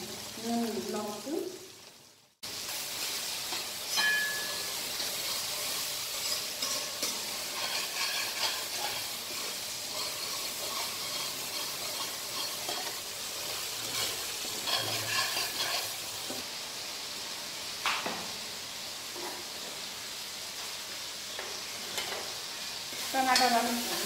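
Tomatoes simmering down in a pan until soft, a continuous hissing sizzle and occasional spatula scrapes running for a long stretch, with a voice speaking at times over the cooking.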